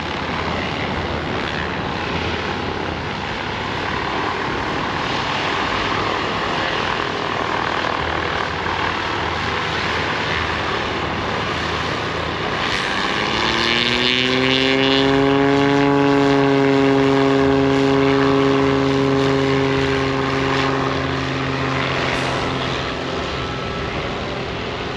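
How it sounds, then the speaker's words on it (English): A T6 warbird propeller aircraft engine rises in a steady droning whine, swelling louder as it throttles up for takeoff at an airfield against a windy, drizzly outdoor background. "there's planes taking off every 5 minutes here"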